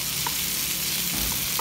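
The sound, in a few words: chicken breast frying in a pan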